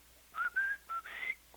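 A person whistles back in imitation of a cardinal's call, four clear bright whistled notes, some sliding upward, close and fairly soft in a quiet setting.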